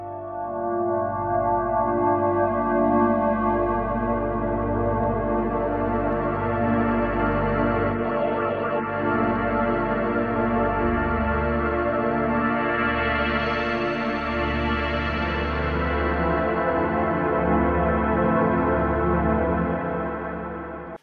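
Atmo preset from the Melancholia pack on the VPS Avenger synthesizer, a thick, sustained atmospheric pad with chorus and echo, shifting chords held continuously and loud throughout.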